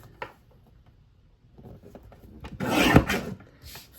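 A paper trimmer slices card stock with a short, close rasping cut after a few light taps and handling sounds.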